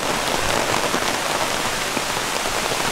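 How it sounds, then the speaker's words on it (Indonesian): Rain pours on Taman Bougainville park at Gunung Puntang, a dense, even hiss of drops striking surfaces nearby, steady and fairly loud with no voices. "Sampai di Gunung Puntang di Taman Bougainville ini langsung hujan"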